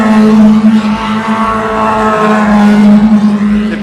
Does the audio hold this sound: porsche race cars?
yes